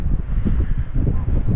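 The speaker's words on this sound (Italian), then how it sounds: "il vento è gelido" Cold, biting wind gusts by the sea, buffeting the microphone as a steady loud rush with low rumbling pulses and no voices.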